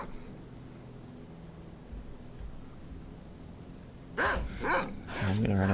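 A pack of dogs in the video game STALKER Call of Pripyat breaks into loud barking near the end, several sharp barks after a quiet stretch, with talk in the background.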